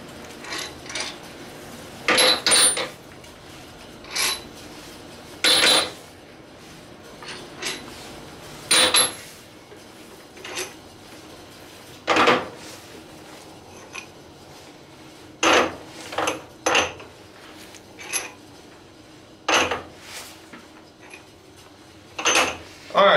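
Head bolts from a 4.7 stroker engine teardown dropped one by one into a metal tray, giving sharp metallic clinks at irregular intervals, some in quick pairs, over a quiet workshop background.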